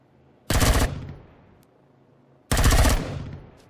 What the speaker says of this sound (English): And a minigun drone.